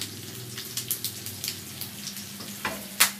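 Pork liempo fries in butter in a pan, giving a soft continuous sizzle with scattered crackles and pops, one sharper pop near the end, heard without any talk.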